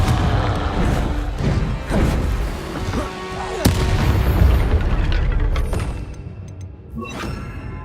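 Fire-spell explosions from the game Hogwarts Legacy burst and boom in quick succession amid dense battle noise, with whooshes and heavy thuds layered throughout.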